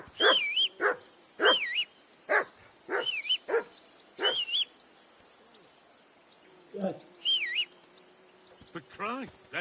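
A dog in Kingdom Come: Deliverance II barks repeatedly in uneven bursts, loud and close, with bird calls chirping among the barks and voices talking in the background.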